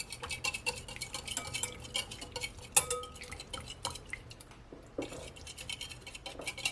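Chicken wings being stirred with butter, garlic and wet jerk marinade in a bowl, a quick run of light clinks, taps and scrapes of utensil on dish, close and irregular, with no voices.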